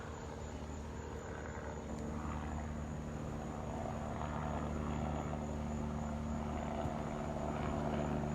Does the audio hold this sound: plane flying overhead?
yes